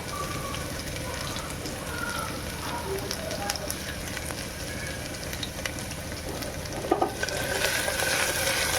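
Garlic, ginger and whole spices such as cloves and pepper crackle in hot oil for a tempering. A soft continuous sizzle carries scattered pops and a few stirring clicks near the end.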